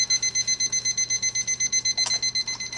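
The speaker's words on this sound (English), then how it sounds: "Turn off the alarm here." A kitchen timer alarm sounds on a stovetop while English toffee cooks, giving a steady run of about fifteen quick, loud, evenly spaced electronic beeps, with a brief clatter near the end.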